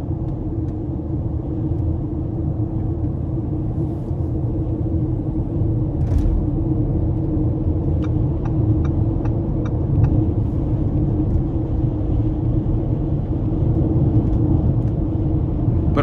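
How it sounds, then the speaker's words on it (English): A 2019 Lamborghini Urus 4.0 twin-turbo cruises at steady speed, giving a constant low road and tyre rumble inside the cabin, with a brief run of faint ticking clicks partway through; no talking. "Got a little bit of road noise"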